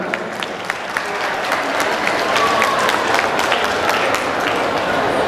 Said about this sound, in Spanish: un aplauso para Joana